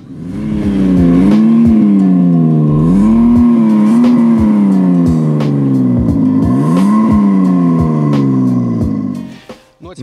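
A car engine with an iXsound active exhaust revs loudly and repeatedly, rising and falling in pitch with a throaty exhaust note, close by and continuous.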